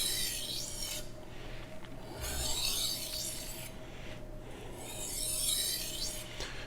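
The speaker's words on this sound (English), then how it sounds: "So let's see how amazing just sharpening a knife" A knife is honed on a Japanese whetstone, Morihei or Imanishi Arashiyama 1K grit, in rhythmic gritty rasping strokes that swell and fade, close and fairly quiet.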